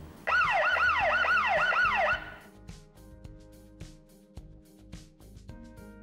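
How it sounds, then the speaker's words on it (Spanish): A Tuya solar-powered rechargeable security camera blares a loud, rapidly warbling electronic siren for about two seconds and then cuts off abruptly, leaving faint ticking and background noise. "Puedes hacer sonar una sirena manualmente desde este interruptor."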